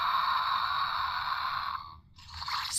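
Kenner Jurassic Park Dilophosaurus toy plays an electronic spit effect: a steady, bright synthetic hiss lasting nearly two seconds, cutting out briefly, then a short scraping burst that rises in pitch at the end, loud and alone.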